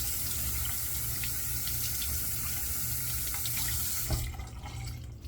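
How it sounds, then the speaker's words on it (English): Tap water runs steadily into a sink while a shaving brush knot is wetted, a close continuous splashing rush that cuts off near the end, leaving quiet drips and handling. "So let me finish getting this knot wet on this brush."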